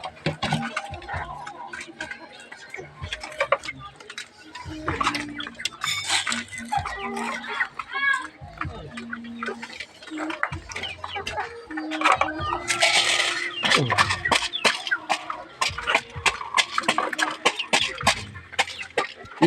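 Chickens cluck and squawk close by during feeding, irregular bursts of clucks and calls with scattered rustling and knocks, and brief human voices in between.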